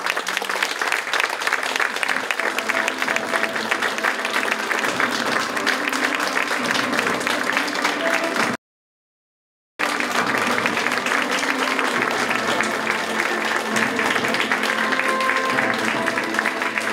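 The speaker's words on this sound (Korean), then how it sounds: "내빈들께서 들어오십니다. 박수로 환영해 주시기 바랍니다." A large audience at an education community forum applauds to welcome arriving guests, with dense, sustained clapping close and loud for a long stretch, briefly cut to silence midway before resuming just as strongly.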